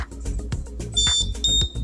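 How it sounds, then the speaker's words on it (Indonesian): Electronic beeps from a timer IC beep circuit combined with an incandescent lamp, sounding as a rapid, regular string of short, loud tones close by. "memang bunyi bip-bipnya"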